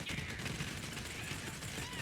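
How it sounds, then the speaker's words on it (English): Rapid crackling volleys from the firework gun in the video game Borderlands 3, a steady dense burst of shots over busy game noise with faint talk underneath. "Firework gun."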